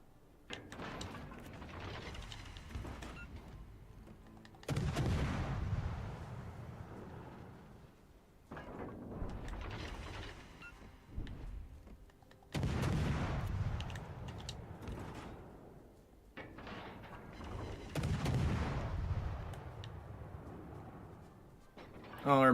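Warship main guns firing in World of Warships: Legends, four heavy booming salvos spaced several seconds apart, each trailing off into rumble, with some game mechanical noise and a voice talking between shots.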